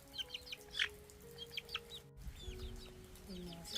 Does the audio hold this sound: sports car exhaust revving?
no